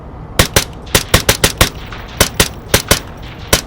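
Rapid gunfire in the VR shooter Onward, a dozen or so loud, close, sharp shots spaced in quick irregular bursts, with no talking.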